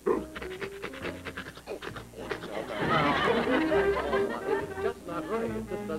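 A man imitates a big St. Bernard dog with rapid, breathy rhythmic panting, with audience chatter and chuckles mixed in.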